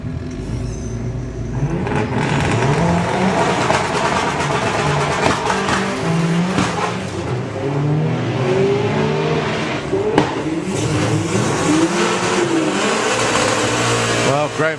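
Drag racing launch at a VW drag racing national finals event, with an Audi S4 estate leaving first against a VW Type 3: loud sustained engine roar and revving with harmonic sweeps as the cars accelerate away, under continuous commentary.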